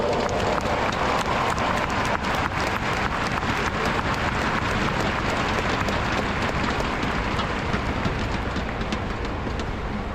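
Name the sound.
audience applause for parade commanders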